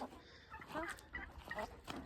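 Soft, low clucking from chickens, a few short bursts scattered across a quiet background.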